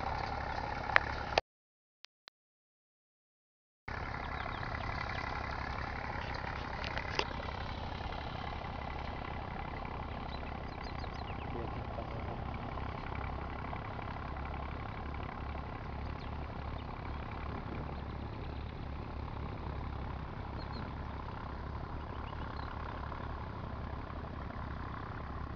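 A tractor engine idles in a steady, low, continuous rumble for most of the stretch, after a short silent gap near the start.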